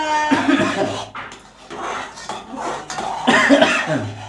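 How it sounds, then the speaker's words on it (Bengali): A woman coughing repeatedly at close range, several harsh bursts with short gaps, loud and clear with no other sounds. "কালকে রাত সত্যি কাশি হয়ে গেছে"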